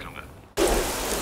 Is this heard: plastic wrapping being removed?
no